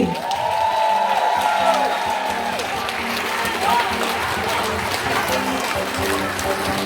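Audience applause and cheering for a Ukrainian singer at a concert in Madrid, a dense steady roar of clapping with a sustained whoop or shout across the crowd, filling the whole stretch loudly.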